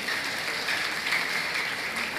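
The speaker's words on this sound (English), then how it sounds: "Let's give ourselves a resounding round of applause" Applause from an audience at a 70th birthday celebration for Bishop Matthew Hassan Kukah, a brief steady wash of many hands clapping at moderate volume.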